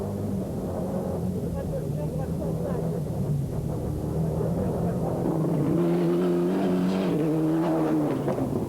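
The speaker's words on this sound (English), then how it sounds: "Loubet driving a Ford Escort Cosworth, the Pierre Boss car, for the first time this year." Onboard a Ford Escort Cosworth rally car during a 1995 French championship rally, the engine drones steadily and close throughout, rising in pitch toward the end, while a commentator talks over it.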